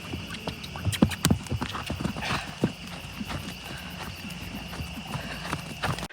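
Close, rhythmic clip-clop of an off-track thoroughbred's hooves as it is ridden, steady footfalls throughout with a brief snort or whinny early on.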